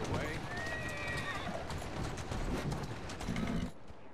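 Horse hooves clip-clop steadily in the Assassin's Creed video game, a busy rhythmic clatter with a whinny, mixed under game sounds and a talking voice.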